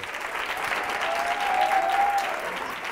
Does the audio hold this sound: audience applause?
yes